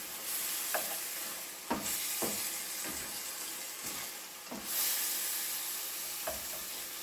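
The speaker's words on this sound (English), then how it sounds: "we're going to stir this and we're going to let this finish cooking." Ground turkey for a green chile casserole sizzles steadily as it fries in a pan, broken by several sharp scrapes of a spoon stirring through the meat, close and fairly loud throughout.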